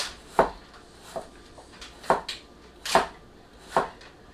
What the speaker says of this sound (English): how it just kind of wedges through, is because the knife is a little thicker than the original Serbian chef knife